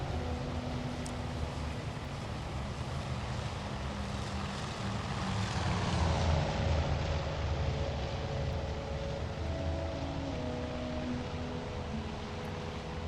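Propeller aircraft in the Battle of Midway naval game Task Force Admiral drone steadily, their engine tones shifting slightly as they pass, over a constant wash of sea and wind noise without talk.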